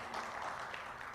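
An audience at a live-streamed session applauds a guest, a soft, even wash of clapping heard at some distance that stays steady for about a second.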